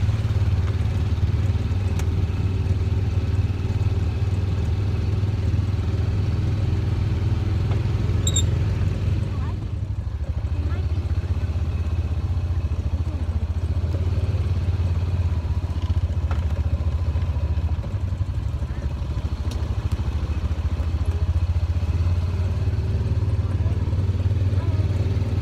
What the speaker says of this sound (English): we are riding in the side by side.